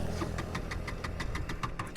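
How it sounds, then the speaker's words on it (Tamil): A motorcycle engine runs at idle on its centre stand, putting out a low, even chug with regular soft pulses about every tenth of a second, close by and with no voices. "ஸோ இப்போ வந்து வண்டியை ஸ்டார்ட் பண்ணுவோம்"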